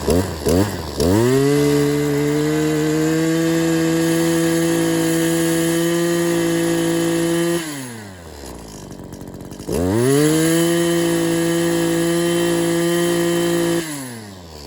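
An Echo PAS-266 powerhead two-stroke engine that keeps cutting out revs up twice from idle, climbing quickly into a loud, steady high-pitched whine, dropping back to a low idle between pulls.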